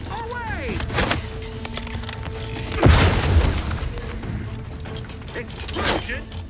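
A grenade goes off in the video game The Outer Worlds 2, a heavy boom bursting out midway through a bed of mechanical clanks and creaks, with quieter game noises before and after.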